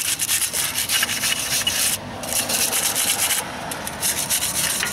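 A wire brush scrubs the rear wheel hub of a BMW F15 X5 during a brake pad and rotor job, making close, harsh scraping strokes in an uneven back-and-forth rhythm, with no talking.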